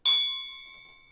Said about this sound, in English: This is the bell for Willerton, which sounds like this.